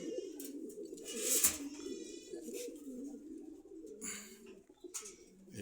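Racer pigeons cooing in cages at a Dhaka bazaar, continuous low throaty coos from several birds nearby, with a brief bright chirp and some faint background noise.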